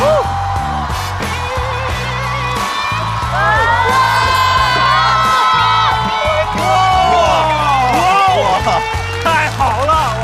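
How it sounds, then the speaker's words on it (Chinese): Stand-up comedy show audience erupting in applause, whoops and cheering, a loud sustained crowd roar with shouting and music-like tones mixed in, and voices calling out over it. "掌声送给王小丽。"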